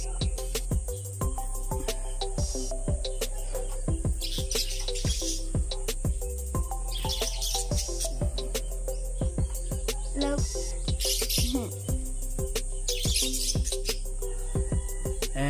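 Pet colasisi parrots and lovebirds chirping in their cages, rapid repeated sharp chirps and trills over a steady background hum, with brief louder bursts of calls and no talking.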